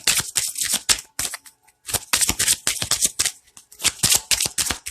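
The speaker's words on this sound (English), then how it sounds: "I'm going to use the Kipper deck." A Kipper card deck is shuffled in quick bursts of riffling and rustling close up, several rapid flurries separated by short pauses.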